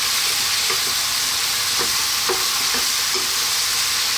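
Goat curry sizzles loudly in a hot pan while being stirred, a steady frying hiss broken by several soft scraping strokes of the spoon.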